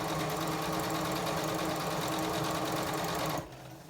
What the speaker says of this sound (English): I do get some fabric shifting as I sew.